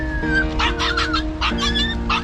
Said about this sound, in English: This hungry stray puppy wandered around all by himself along the dangerous train tracks